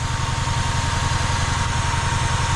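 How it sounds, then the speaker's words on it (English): A Honda engine with a high-idle fault runs fast and unsteady, giving a loud, continuous buzzing drone with a rapid pulsing throb underneath, up close and without talk. "She's still idling really high, and she's about to actually die."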